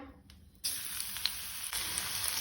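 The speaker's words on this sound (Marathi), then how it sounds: "तातूंत हांव लसूण घालता।" Garlic cloves drop into a pan of hot oil for Goan-style spinach bhaji, and a loud, steady sizzle bursts up suddenly and continues close by without any talking.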